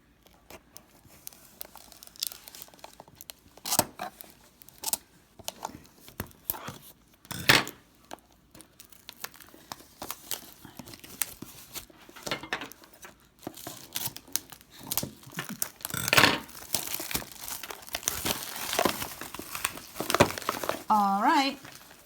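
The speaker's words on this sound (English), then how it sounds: "I have a pair of scissors." Scissors snip and slice through the packaging of a Target beauty box, with crinkling plastic and paper tearing in scattered bursts, close and moderately loud, growing busier toward the end.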